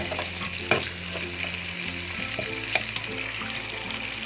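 Chicken karahi masala for Shinwari karahi fries in a pan with stirring, a soft continuous sizzle with occasional scraping clunks, set against quiet background music.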